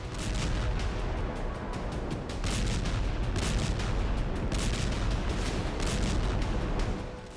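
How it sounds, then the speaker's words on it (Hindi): Tank shelling in the streets of Khan Younis during the Gaza war: a dense, continuous barrage of booms and crackling blasts, loud and unbroken throughout, with no talk. "टैंक खान यूनिस की गलियों में उतरकर गोले बरसा रहे हैं"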